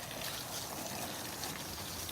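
Continuous hiss and trickle of water spraying from a garden hose onto plants outdoors, steady and fairly soft, with no talk over it.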